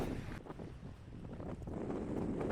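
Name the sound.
gale force wind blowing on the Isle of Man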